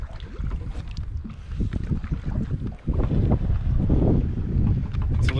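Breezy wind over a rough lake, a steady broadband rush with gusty buffeting against the microphone and some water movement, continuous throughout and with no voices.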